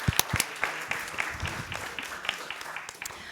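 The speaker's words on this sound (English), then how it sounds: "you can hear a round of applause for Ms. Puyer." A conference audience claps for a speaker at a social Europe event; scattered, fairly sparse claps with a few sharp louder hits, heard at moderate distance.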